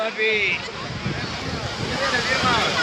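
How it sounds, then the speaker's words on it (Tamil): Cool sea breeze gusts steadily across the seashore at Tiruchendur, a broad, constant rush of wind with soft surf and faint crowd murmur blended underneath, no clear voices standing out. "இயற்கையோடு நல்லா காற்று ஜில்லுன்னு அடிக்கி"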